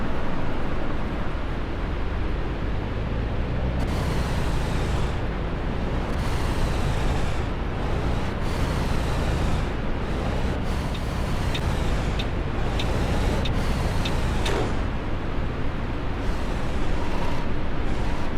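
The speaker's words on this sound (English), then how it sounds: "we're going to put the bus in drive, take off the parking brake, and we're going to go to our first stop" A coach in Fernbus Simulator on PS5 pulls away from a stop under a steady, loud engine drone, with short air-brake hisses and mechanical clicks recurring throughout and no talking.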